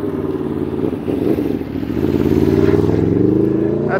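A motorcycle engine revs and rumbles nearby as it makes a U-turn, with the pitch rising steadily amid steady street traffic.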